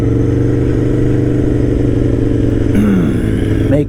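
An Aprilia motorcycle engine drones loudly and steadily while riding, heard close from a helmet-mounted microphone, with a short shift in pitch near the end as the revs change.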